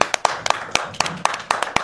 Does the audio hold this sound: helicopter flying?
no